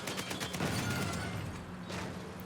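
A booming explosion in the video game Uncharted 4, a dense rumbling blast with crackling debris that swells and lingers over about two and a half seconds, loud and close with no talk.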